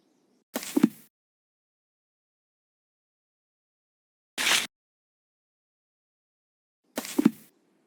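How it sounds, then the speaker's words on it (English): A bird call in the remastered Sherlock Holmes: Nemesis video game, three short separate bursts spaced across otherwise silent stretches, each one clear and close. "The bird, Holmes. There it is. A bird, yes, but which one"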